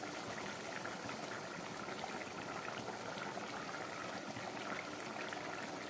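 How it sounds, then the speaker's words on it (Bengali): Bele fish curry with potato and eggplant boils in a pot, a dense, even bubbling hiss that holds steady throughout with no voices. "আপনারা দেখছেন ফুটে উঠেছে।"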